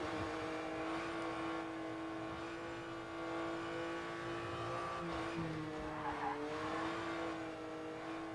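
Rally car in the WRC 10 video game sliding under the handbrake, a steady engine drone with tire scrub and squeal rising toward the end, fairly quiet throughout.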